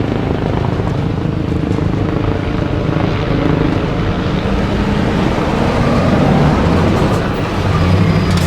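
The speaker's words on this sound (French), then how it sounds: "Là, l'hélicoptère en haut." Helicopter flying overhead during a forest wildfire in Gironde, a loud continuous rotor and engine drone with a rough, steady throb that holds throughout without speech.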